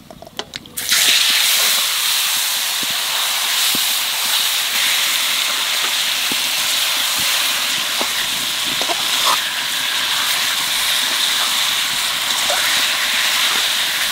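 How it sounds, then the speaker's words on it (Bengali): Magur catfish sizzling in hot oil in a pan with cumin and bay leaf, a steady loud hiss starting abruptly after a brief quiet moment and continuing with scattered crackles and pops throughout. "এইবার মাছ দিয়ে দেবো।"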